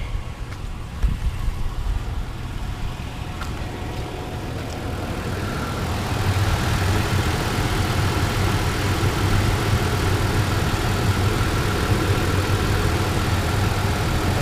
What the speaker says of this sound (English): I was getting chirp sound from the front.